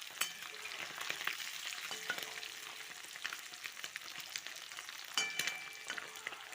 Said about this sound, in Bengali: এবার আমি মাছগুলো ভাজা ভাজা হয়ে গেছে, এবার আমি মাছগুলো উল্টে দিচ্ছি।